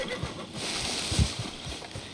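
Agitated horse in Red Dead Redemption 2, near hoof clops and stamping with snorting over a brief stretch, faint talk present.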